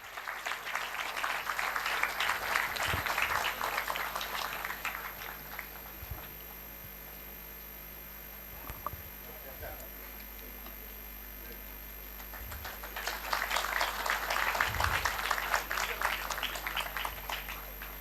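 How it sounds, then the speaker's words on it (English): An audience at an international conference award ceremony breaks into a burst of clapping, goes quiet for several seconds, then claps again in a second strong round. "Please give a big round of applause."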